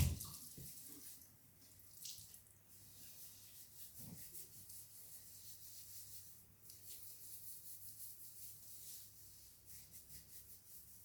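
Running water during hair washing and shampoo rinsing, a soft steady splashing stream with faint rubbing and occasional louder splashes, close and quiet throughout.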